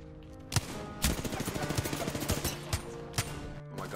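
Pistol gunshots in a video game, heard as a rapid string of sharp, punchy shots with several louder isolated cracks, fairly close over a steady game background hum.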